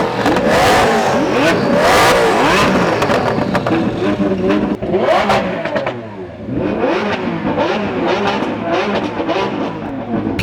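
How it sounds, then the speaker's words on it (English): A loud-exhausted Lamborghini Aventador revs hard in repeated roaring bursts up close, each pull rising sharply before dropping back, with no voices. "That Aventador has, I don't know what kind of exhaust is on it, but it's quite loud."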